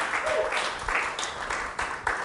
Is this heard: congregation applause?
yes